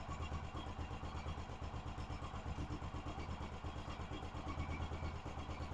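A vintage British motorcycle engine idles with a quick, uneven chuffing rhythm, faint and continuous, with no voices.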